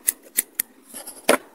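A pair of scissors used in crochet earring making snips several times, crisp close cuts in an irregular rhythm with small handling rustles between them.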